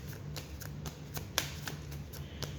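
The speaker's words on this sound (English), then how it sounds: "One more shuffle." Tarot cards being shuffled by hand, a run of soft riffling flutters and light slaps in an irregular rhythm, close and quiet over a low steady hum, with no talking.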